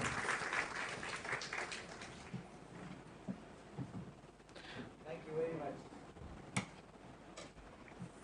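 A lecture audience applauds a speaker at a talk on federalism. The clapping is faint and distant, strongest at the start, then thins out under low room noise.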